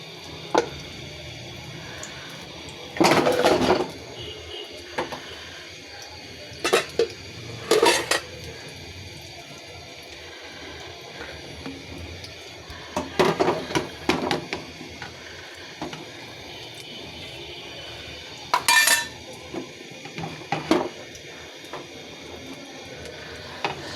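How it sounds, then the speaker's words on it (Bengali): A metal lid lifted off a cooking pot of steamed capsicum, heard as several sharp clanks and rattles spread apart by quiet stretches of faint room noise. "ঢাকনাটা তুলে নিচ্ছি"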